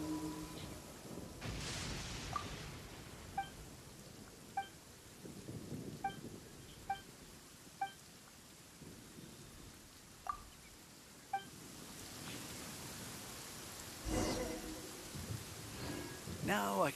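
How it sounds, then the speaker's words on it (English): Rain falls steadily in Genshin Impact while thunder rumbles in a few heavy rolls near the start and end, with a string of short chiming game sounds in between and no talk. "rain won't slow me down."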